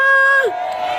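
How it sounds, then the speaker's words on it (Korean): A festival crowd at an outdoor healing-themed show cheers and shouts in a loud, sustained roar, with a single voice trailing off at the start before the mass of voices carries on. "다시 한번 함성 함께 해주실 겁니까?"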